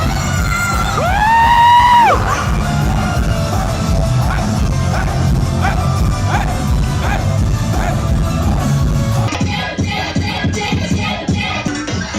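A crowd at a Hyper Japan live performance roars and cheers steadily over loud stage music, with yells and whoops rising throughout and a rhythmic clapping or chanting section near the end.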